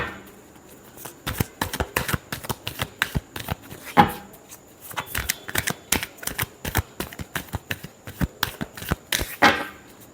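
Tarot cards being shuffled by hand in a quiet room, a rapid run of crisp riffling flicks and slaps with short pauses, close and alone without talk.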